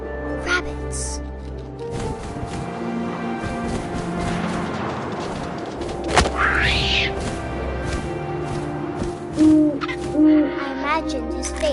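An owl hoots a few times within the ambient soundscape of What Remains of Edith Finch, set against a steady wind-like drone, scattered clicks and a brief sharp crack midway.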